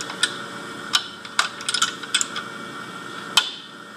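A screen clamp locking onto a Printex screen printing press gives several sharp metallic clicks and ratchet-like clunks, with a louder single snap near the end, set against a steady low hum.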